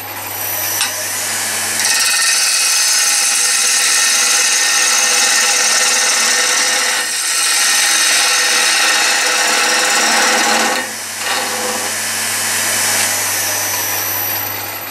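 Steady, loud abrasive scraping of a trimming tool shaving a ceramic teapot lid on a spinning pottery wheel, continuous with brief pauses and a low motor hum underneath.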